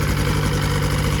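A Polaris 700 XC SP snowmobile engine idles steadily, loud and close, with an even low drone and a fast rhythmic pulse that does not change.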